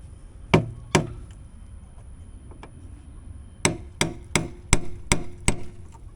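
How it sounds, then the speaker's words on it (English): Hammer blows on a body-puttied truck bumper: two sharp hits, a pause, then six quick, evenly spaced strikes, each a loud, close, ringing knock standing alone with no talk. "Seems pretty goddamn solid if I can hit it with a hammer."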